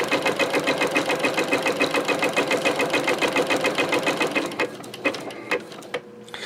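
A 7mm-wide zigzag sewing machine stitches industrial rope into a coiled bowl, running in a fast, even chatter before slowing and stopping into a few scattered clicks.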